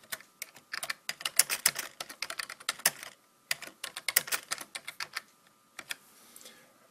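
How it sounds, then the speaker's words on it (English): Typing on a computer keyboard produces quick, close clicking keystrokes in several bursts, with short pauses between runs and no talking. "and we type our text out."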